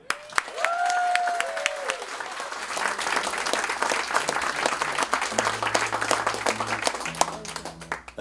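Applause for a songwriter at a live music show fills the room, steady crowd clapping throughout with a few tonal sounds early on and faint sustained notes later underneath.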